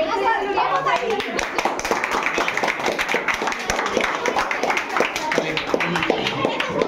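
Students' hands clap in a dense, steady patter, close and continuous, with children's voices mixed in beneath the clapping.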